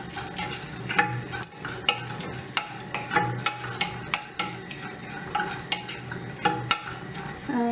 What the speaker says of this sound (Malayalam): അരിഞ്ഞ് വെച്ചിരിക്കുന്ന കാഷ്യൂ നട്ട്സ് ഇട്ടു